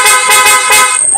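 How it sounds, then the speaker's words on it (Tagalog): A loud, bright horn on a Honda ADV160 scooter blaring in several rapid pulses, then one sustained high tone, close and harsh. "Loud horn."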